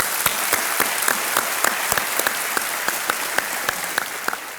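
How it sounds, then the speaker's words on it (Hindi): Studio audience applause on the KBC quiz show set, a steady dense wash of many hands clapping close and loud, with sharper individual claps standing out throughout and no talking. "एक बार फिर तालियां बज जाए आयुष्मान जी के लिए।"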